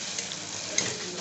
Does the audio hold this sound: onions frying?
yes